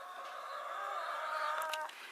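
A voice imitates a clucking chicken with a drawn-out, wavering warble, close and moderately loud, ending in a brief breathy note.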